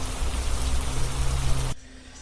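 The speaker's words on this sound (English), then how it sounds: "The incessant patter of the rain" Steady rain patters as a sound effect in a radio drama, a dense hiss of falling drops that runs evenly and then cuts off abruptly near the end, leaving quiet room tone.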